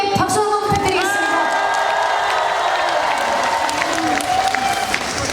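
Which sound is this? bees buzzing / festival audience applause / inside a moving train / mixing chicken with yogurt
festival audience applause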